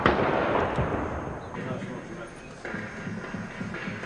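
Gunfire from soldiers returning sniper fire in parkland beside a hotel, April 1992 fighting at Ilidža, heard as a dense, noisy wash of distant shots and bursts with talk mixed in throughout.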